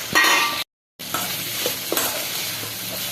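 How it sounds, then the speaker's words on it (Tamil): Chopped okra with tomato being stirred and sautéed in a pan for a coconut gravy: close scraping stirs over a steady sizzle, broken by a brief silent gap before the frying noise resumes. "வெண்டைக்காய் கொஞ்சம் கிளறி விடுவோம்."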